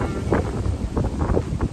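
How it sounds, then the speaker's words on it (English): Gusty outdoor wind buffets the microphone in a low, uneven rumble with soft swells and flutters throughout, fairly close and steady. "it's kind of windy today."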